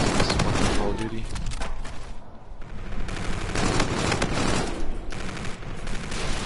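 Rapid automatic gunfire and bursts of shots in the Call of Duty video game, dense and continuous with a short lull midway, mixed under talk.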